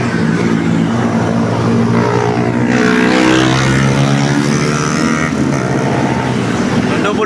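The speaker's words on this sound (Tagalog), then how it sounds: "Kaya malaki aeroplano dito." Airplane engines roar loudly and steadily at an airport, a strong sustained drone with shifting tonal whine as a large aircraft taxis nearby, with a voice faintly present.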